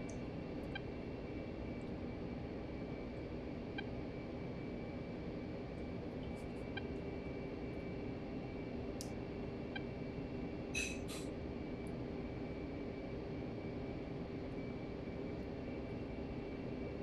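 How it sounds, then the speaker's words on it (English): F-15 jet engine spooled up at idle in the flight sim DCS World, a steady low droning whine with a constant hum, joined by a few faint high clicks and brief chirps. "Got the F-15 all spooled up,"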